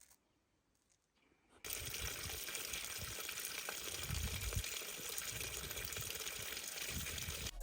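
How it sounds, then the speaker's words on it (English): River water rushes in a loud, steady hiss that starts abruptly after a quiet moment and continues unbroken, close by in a peaceful farm landscape. "we got to the end of the river"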